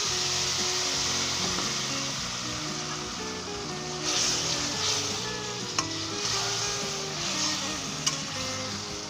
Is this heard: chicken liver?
yes